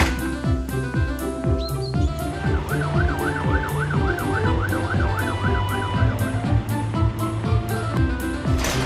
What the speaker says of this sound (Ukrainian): гучна сирена, яку чують всі машинки